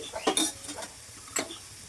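Curry leaves, garlic and crushed ginger hit a hot pan of sizzling oil, with a few quick scraping stirs and a short crackle, close and fairly loud.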